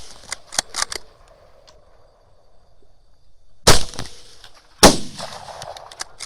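Two loud, sharp rifle shots from a Grendel rifle fired at a sounder of hogs, spaced about a second apart. Quieter clicks and faint background noise fall between them, with the second crack ringing slightly longer.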